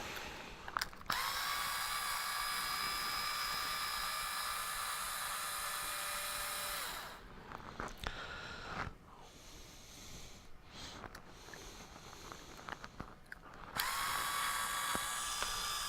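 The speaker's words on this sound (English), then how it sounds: "because we still have that same size bit on our screwdriver, I'm going to take the shock mounts off" A power screwdriver backs shock mount screws out of a TRX4 RC truck. It makes a high, steady whirring buzz in long bursts, separated by a quieter stretch of handling clicks and rustles.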